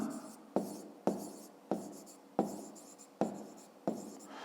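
Pen scratching on paper while a maths answer is written down, a run of short strokes each starting with a sharp tap and trailing off, repeating roughly every half second up close with no talking.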